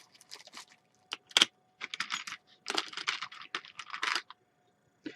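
Fingers type on a computer keyboard, clusters of quick close clicks and key taps in short uneven bursts separated by pauses.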